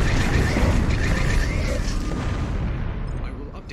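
A deep, loud explosion rumbles through a Star Trek Bridge Crew VR space battle, a sustained boom that slowly decays over a few seconds amid dense game noise.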